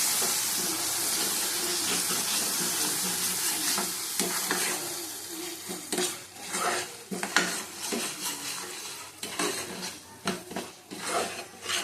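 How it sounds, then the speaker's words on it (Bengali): Pea ghugni with egg being stir-fried in a pan with a splash of water, a moist sizzle and bubbling under repeated scraping and clinking of a spatula against the pan, close and fairly quiet, with no voices. "জল দিয়ে আবার কষিয়ে নেব"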